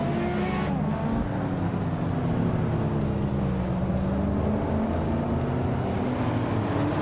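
Several race cars speed past one after another, their engines rising and falling in pitch as they pass, loud and continuous throughout with no talking.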